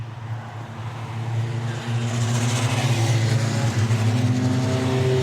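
F3 Cup race cars circulating under safety car conditions at Snetterton, engines droning steadily at moderate revs, building from moderate to loud as the field passes close by and holds a sustained, even roar without talk.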